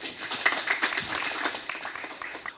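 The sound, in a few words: audience applause for the partners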